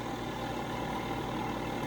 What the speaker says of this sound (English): That's where the tractor starts to struggle a little bit whenever it goes up these like little larger hills.